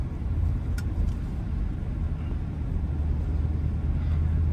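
Range Rover SVR, an all-wheel-drive SUV, climbing a snow-covered ramp with a steady, loud low engine rumble throughout, no voices over it.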